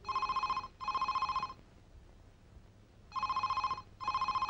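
A telephone rings in two double bursts of bright electronic trilling separated by a short silence, clear and moderately quiet in a film scene.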